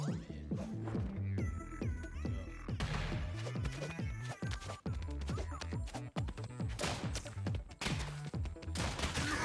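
Rapid gunfire rattles through a shooter video game match, with dense, sharp shots and bursts repeating almost without pause, loud and close.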